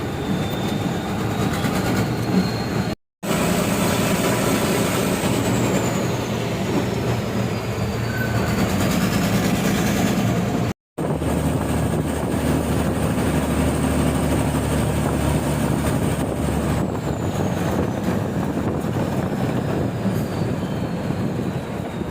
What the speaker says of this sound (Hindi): मुझे तो इस बस के इंजन का साउंड सुनने में बड़ा मजा आ रहा था